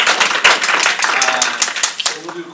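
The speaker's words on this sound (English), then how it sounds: "That was the break for the applause." A scattered round of clapping from a panel audience at a WordCamp Boston open source session, sharp individual claps rising briefly and thinning out under some light talk.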